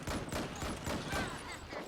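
Rapid bursts of heavy automatic fire from the Peppermill Crank-Gun, a modded .50-caliber Gatling-style weapon in Fallout 4, rattle in quick succession at moderate loudness.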